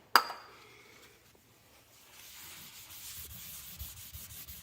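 Crayon is rubbed off a wall with WD-40, starting with a sharp clink and then a soft, close scrubbing that builds into steady rubbing strokes.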